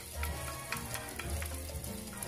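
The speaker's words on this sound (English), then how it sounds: "You hear the sizzle?" Garlic sizzles and crackles steadily in hot oil, a close, continuous frying hiss with small pops, no talking.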